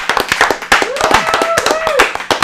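A studio audience claps and whoops for Stu Stone in a bright, close burst of applause. A high whistle-like tone glides through the middle, and a voice talks over the clapping.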